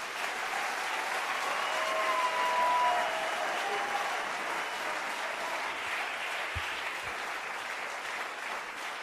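A church congregation claps and cheers together in a dense, sustained burst of applause that fills the room, steady throughout with a few faint voices mixed in.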